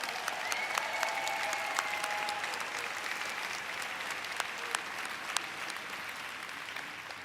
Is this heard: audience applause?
yes